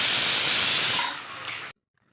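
Capsicum with ginger garlic paste frying in a hot pan, a loud steady sizzling hiss that fades over about a second, then drops off abruptly into near silence.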